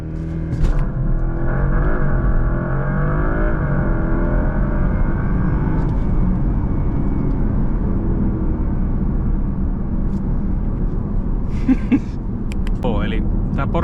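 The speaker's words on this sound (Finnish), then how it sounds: "täytyy pistää tuo Sport Plus-asetus ja sitten vaan tosiaan jarrupolin pohjaan ja kaasua ja sitten mennään" A Porsche Panamera Turbo E-Hybrid launches hard in Sport Plus and accelerates toward 120, a loud continuous interior engine and road roar with rising tones that level into steady rumble, while a voice talks over it briefly.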